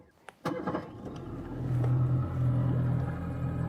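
A boat's outboard motor on Long Lake, Ontario, smoking on a cold morning, starts with a couple of sharp clicks and then settles into a steady, close, low rumbling drone.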